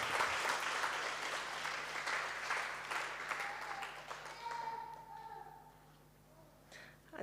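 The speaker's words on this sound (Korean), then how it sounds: "여러분 큰 박수로 좀 다시 한번 환영해 주시겠어요?" A church congregation at a Sunday service claps warmly to welcome a speaker, strong at first and then thinning out and fading toward the end, with some faint voices underneath.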